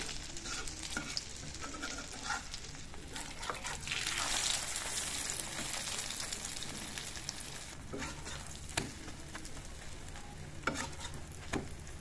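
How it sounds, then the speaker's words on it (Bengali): An egg fries in a clay pan. A continuous sizzle swells midway, with scattered scraping stir strokes and a few sharp knocks toward the end, close and moderately loud, without talk. "আর আজকে বাসি তরকারি নেই, তাই ডিমটা ভেজে নিতেছি, ডিম দিয়ে খাবো।"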